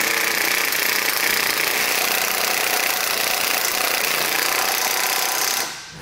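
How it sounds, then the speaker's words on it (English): A 17mm socket on a power impact tool drives base plate bolts into the bumper beam of a 2021 Chevrolet in one loud, continuous hammering burst that stops abruptly near the end. "We can now go back and tighten our hardware down."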